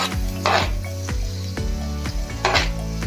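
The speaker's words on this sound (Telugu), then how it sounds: "మనం స్టవ్ మీద ఆయిల్ తీసుకొని హీట్ ఎక్కిన తర్వాత ఉల్లిపాయలు వేసుకుందాం ఫస్ట్ అలాగే పచ్చిమిర్చి కరివేపాకు కూడా వేద్దాం" Onions, green chillies and curry leaves frying in hot oil on a stove, giving a steady close sizzle broken by repeated scraping and stirring strokes of a utensil against the pan.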